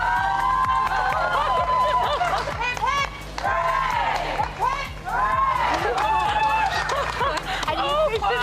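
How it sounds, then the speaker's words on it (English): Crowd at the Chelsea Flower Show cheering and clapping during a medal presentation, a loud, sustained wash of whoops, shouts and applause that stays steady, with voices calling out above it. "And you officially get the biggest cheer as well."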